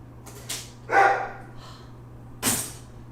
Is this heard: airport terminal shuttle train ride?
no